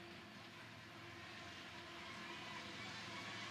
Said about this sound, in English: The train, another train coming by in the background.